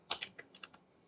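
Keys on a computer keyboard are typed close to the mic in a quiet room, a short burst of about six light clicks, quick at first and then tapering off.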